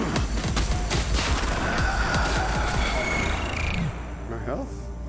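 Rapid, sustained gunfire bursts in the VR shooter LONN, dense overlapping shots crackling loudly for several seconds before easing slightly, with a voice talking underneath.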